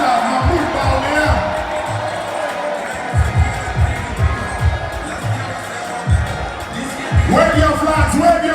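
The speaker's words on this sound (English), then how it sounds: "Ladies and gentlemen, a big round of applause for Dr. Awwh Bawumia." A large crowd at a Ghanaian political rally cheers and shouts to welcome Dr. Bawumia, with rhythmic drumming thumping beneath. The noise swells again near the end, and a loud voice talks over it.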